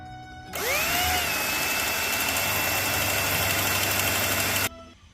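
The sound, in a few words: drilling out rivets on FIAT Spider A-pillar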